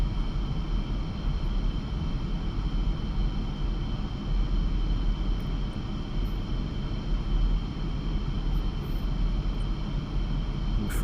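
Steady broadband roar of a MiG-29 jet engine in the DCS flight simulator, lined up on the runway before takeoff, loud and continuous throughout with no voices over it.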